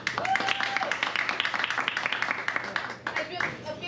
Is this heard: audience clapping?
yes